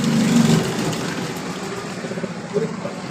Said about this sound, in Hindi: अब पहले 2 सिलाइयाँ लगी हुई, तीसरी सिलाई लगा रहा हूँ